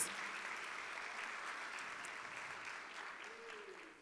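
A church congregation applauding during a Sunday worship service, a steady wash of clapping that holds for about four seconds at moderate distance, with a faint voice rising briefly near the end.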